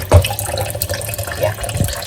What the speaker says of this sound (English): I'm washing the vegetables over here.